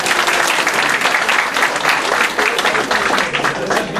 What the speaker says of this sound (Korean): 잘하셨으면 서로를 위해서 박수 한번